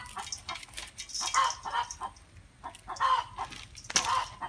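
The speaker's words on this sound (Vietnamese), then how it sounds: "Có tiếng gà gáy mà mọi người thông cảm" A rooster crows repeatedly in the background of a home setting, each call a clear, moderately distant cry, heard three or four times over a few seconds with no one talking.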